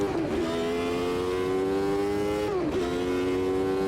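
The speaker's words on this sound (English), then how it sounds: "I love that shift sound." Race car engine in Automobilista 2 holds a steady high rev, then drops sharply at a gear shift and climbs again, loud and continuous with no talking.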